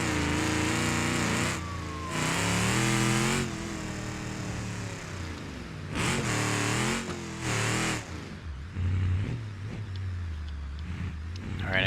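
A mud truck engine in the BeamNG driving game runs steadily, with repeated loud revving surges and drops in pitch as it drives, no talking over it.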